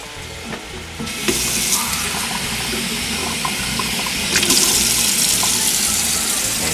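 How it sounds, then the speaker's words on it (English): Cups of water poured into a cooking pot for a picante sauce, a steady loud splashing rush that surges twice as each cup goes in, with no talking. "Now we need to add a couple of cups of water."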